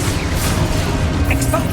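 The Confringo spell blast in Hogwarts Legacy, a loud, dense booming rush that fills the whole moment, with bright crackling flashes near the end.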